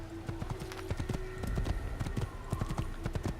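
Horse hooves clip-clop at a steady trotting rhythm in the video game Assassin's Creed, close and clear, with a faint tonal hum running beneath the hoofbeats.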